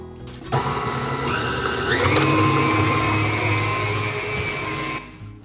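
A stand mixer beats cake batter for a Victoria sandwich, a loud, steady motorized whir with a rising pitch partway through, then cutting off at the end.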